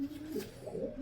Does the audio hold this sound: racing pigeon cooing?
yes